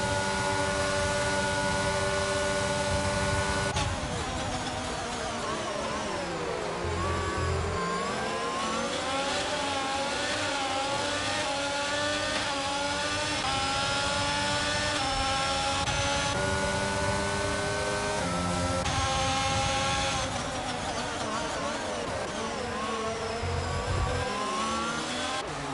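F1 racing video game cars, a Mercedes among them, roar down the Miami straight with loud, continuous high-revving engines whose pitch sweeps up and down as the pack passes, with no voices over them.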